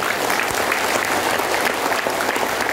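Loud, steady applause from an audience at a national literacy tour event in Singkawang, dense clapping sustained throughout with no break.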